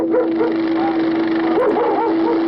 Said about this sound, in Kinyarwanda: Yagiye kumva yumva imbwa zimoka.